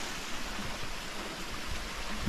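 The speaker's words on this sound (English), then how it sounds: "Waterfall up there." A woodland waterfall, a steady, dense rushing roar that holds constant throughout with no breaks.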